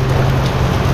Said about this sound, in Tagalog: Lakas nung ulan.